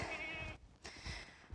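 Goats bleat in their pen, one long bleat followed by a shorter one, faint and somewhat distant with no talk.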